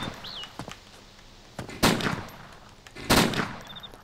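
Two loud gunshots in the video game DayZ, sharp and close, spaced over a second apart against quiet background with faint small game sounds.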